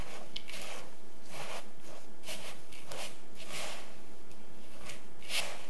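Granola mixture being stirred with maple syrup, vegetable oil and salt, producing a series of soft, rhythmic scraping and rustling strokes up close, with no talking.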